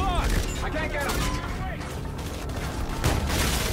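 Gunfire in Call of Duty: Infinite Warfare that ends in a headshot, a dense burst of loud shots and mechanical clatter mixed with other game sounds, with a voice talking over it.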